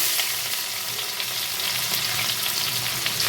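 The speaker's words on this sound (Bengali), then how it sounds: "এখন আমি এখানে আগের থেকে কেটে রাখা স্লাইস করে পেঁয়াজটা দিয়ে দেব" Sliced onion hits hot oil with black cumin seeds in a pan, sizzling in a dense, steady hiss with faint stirring, close and loud, no voices.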